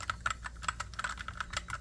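Typing on a mechanical keyboard with brown and blue switches: a quick, irregular run of crisp key clicks and clacks, close and fairly soft, with no voices.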